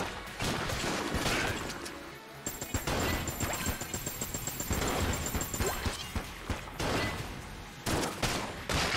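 Rapid bursts of gunfire from the Enter the Gungeon video game, dense continuous volleys of shots and impacts layered with crashing hits, loud and busy throughout with no voice over it.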